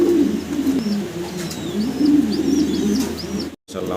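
Fancy pigeons, including grizzle-coloured birds, coo loudly and close in repeated low rolling phrases, with higher chirps from other birds above them, before a brief cut near the end.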